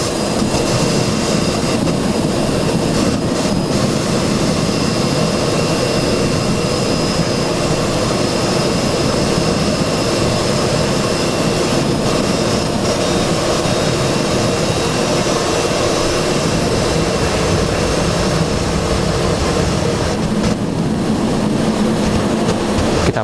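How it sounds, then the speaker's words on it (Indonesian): Jet engines on the Indonesian presidential aircraft roar loud and steady as it prepares to depart, a constant broadband rumble with no voices. "Kita menantikan pemirsa detik-detik keberangkatan pesawat Kepresidenan Republik Indonesia Presiden Prabowo Subianto yang akan berangkat ke Arab Saudi"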